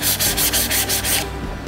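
Sandpaper scrubbed lightly back and forth over a wooden crate painted with white PVA paint, giving a close, steady run of rhythmic rasping strokes that trails off at the end.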